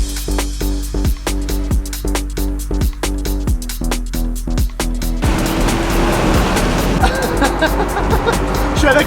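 Audi SQ7 ABT driving near the Monaco Grand Prix: a deep, steady engine drone from inside the cabin with rhythmic clicks and thumps, then rising road and engine roar, loud and continuous.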